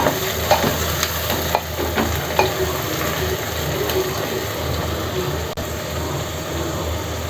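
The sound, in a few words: onions being stirred and fried for chicken gravy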